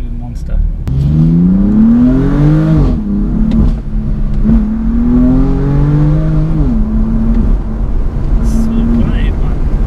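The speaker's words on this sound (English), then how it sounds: "first time driving an M4 variant and it's a CS" A BMW M4 CS engine revs and pulls hard while driving, its loud rising harmonic drone climbing through the gears with brief shifts between surges, close and steady throughout, with faint talk underneath.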